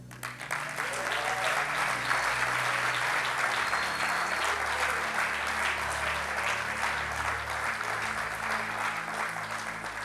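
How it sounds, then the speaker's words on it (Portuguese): A church congregation at a special anniversary service applauds Manuel Lopes de Novaes, producing a thick, steady wash of clapping that holds at an even level throughout, with a low tonal drone underneath. "Salve de palmas para ele"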